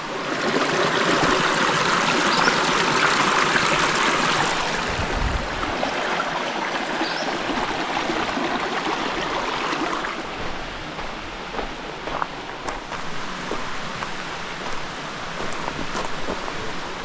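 Shiny Creek in the South Mountains rushes and burbles steadily close by, a continuous loud wash of flowing water that eases slightly midway, with no voices.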